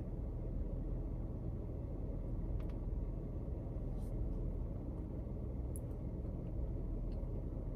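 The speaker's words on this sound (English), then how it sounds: "We're gonna drive like down the street." Steady low road rumble comes from inside a car driving down a street, with constant tire and engine noise at moderate level throughout.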